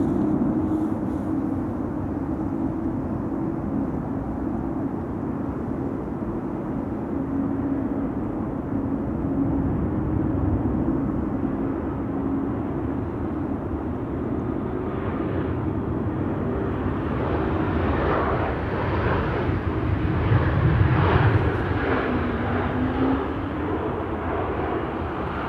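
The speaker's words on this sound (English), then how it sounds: "The A321neo arriving from Copenhagen." An Airbus A321neo arriving from Copenhagen at Amsterdam Schiphol hums faintly at first, then its jet rumble swells to a nearer, louder pass near the end before easing off slightly.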